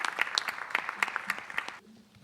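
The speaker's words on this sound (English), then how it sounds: "Let's give these candidates a big round of applause." A small audience at a municipal candidates forum claps for the candidates, with distinct separate claps that cut off abruptly, leaving quiet room noise.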